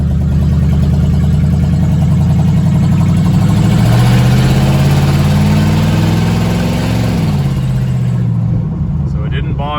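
A 1982 Chevy Scottsdale pickup engine under heavy acceleration while driving, suspected of bogging, with a loud, steady low drone that rises in pitch, then eases and fades near the end.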